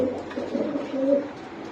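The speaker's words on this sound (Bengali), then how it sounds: "এই জায়গায় একটা হাইপ্লার কবুতর দেখতেছি" Low, soft cooing from a high-flyer pigeon, a steady throaty rolling call close by with little else around it.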